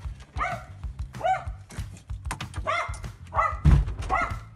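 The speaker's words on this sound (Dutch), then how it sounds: "Oh, Sokkie, ben je nou aan het blaffen" A dog barks repeatedly at close range, five or six loud, evenly spaced barks with a dull thump among them and no talking.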